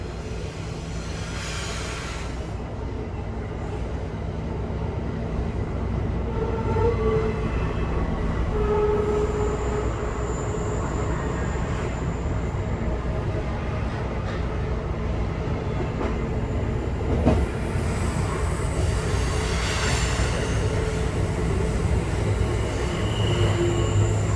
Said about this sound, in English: never-ending westbound Norfolk Southern intermodal freight.